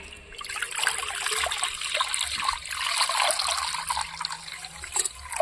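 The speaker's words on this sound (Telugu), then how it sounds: "ఇప్పుడైతే నీళ్ళు పోస్తాను" Water being poured into a new clay pot for cooking dal, a steady trickling splash that swells and eases over several seconds, heard alone without talk.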